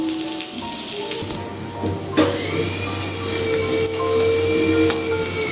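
Potatoes fry in mustard oil in a wok, giving a steady close sizzle with a bright hiss over a low hum, loud and unbroken with a few small clatters.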